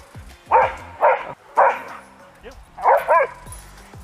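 Dog barking in an open field at another dog at the far end, a run of five sharp, loud barks in uneven bursts, with some talk around them.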